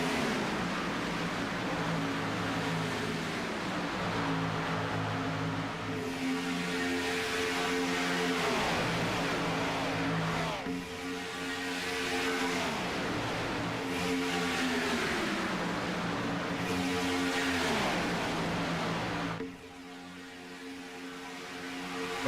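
Race cars lap an oval track in a Grand National event, engines roaring continuously and loud as pack after pack sweeps past with rising and falling pitch.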